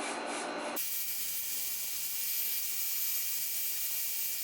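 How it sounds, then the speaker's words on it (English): Texture spray is sprayed onto freshly styled hair. After a brief moment of quiet room sound, a close, steady aerosol hiss runs continuously for several seconds with no talking. "I'm just going to spray some texture spray"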